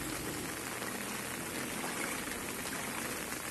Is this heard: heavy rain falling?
yes